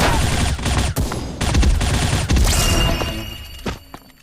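Gunfire in short, sharp bursts from the shooter game Bullet Angel, loud and close, with brief gaps between volleys and a tapering final shot.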